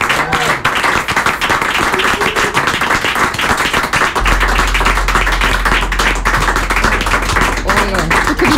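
An audience at a charity fundraising broadcast applauds in steady, dense clapping that carries on throughout, with voices mixed in underneath.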